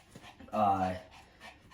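A hairy dog pants close by, a short breathy burst of quick huffs with a slight whimpering tone, fairly quiet.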